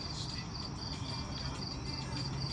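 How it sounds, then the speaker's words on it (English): Crickets chirp in a steady, pulsing chorus at night, moderately close, with no voices. "Invasion of the crickets."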